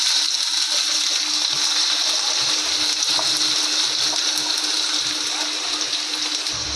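Onion and tomato dropped into hot oil for a Marathi brinjal bharit, giving a steady, loud hiss and sizzle close by with faint clinks, unbroken throughout and with no talk.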